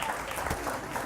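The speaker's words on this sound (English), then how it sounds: "Round of applause for her" Audience applause fills the moment, a short steady burst of many hands clapping at moderate loudness in a seminar setting.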